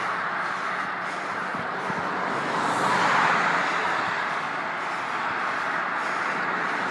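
Steady traffic on a roadway heard from a bicycle during a Sunday morning ride, a continuous broadband wash of passing cars swelling slightly in the middle, with faint bird calls behind.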